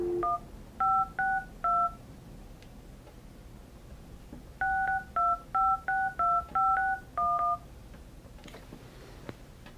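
Touch-tone keypad beeps from a Grandstream GXV3275 video phone, a short burst of four evenly spaced dual-tone presses followed by a quicker run of about eight more, clear and close with quiet background between them.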